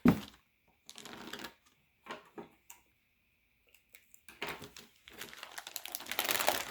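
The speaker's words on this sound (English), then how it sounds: "Let's kind of rip into this real quick and see what's in here" Paper packaging of an RC car manual, a Cen Racing Q Series Suzuki Jimny kit, being torn and crinkled open in short bursts with pauses between, then a longer rustling stretch, close and fairly quiet; no talk.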